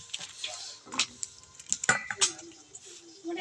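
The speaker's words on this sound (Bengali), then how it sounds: "তো আলুটা কেটে নিই বন্ধুরা।" Potatoes being diced into small cubes with a knife in a home kitchen, giving a few sparse, light clicks and taps of blade on board at close range, with quiet gaps between cuts.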